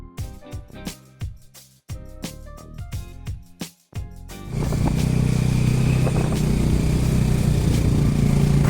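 Off-road motorbike riding on a mountain road in the Kalimpong hills: a few seconds of plucked, music-like tones give way to a loud, steady engine roar that continues to the end.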